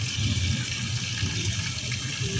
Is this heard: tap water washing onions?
yes